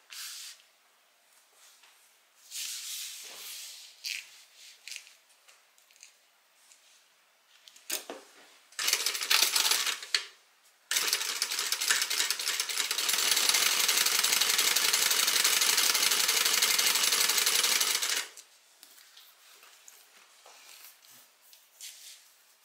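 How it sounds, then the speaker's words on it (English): A sewing machine stitches a zipper on, with several bursts of rapid mechanical whirring, the longest running steadily for about seven seconds, mixed with handling clatter and quiet pauses. "And then from here we're going to stitch this zipper on."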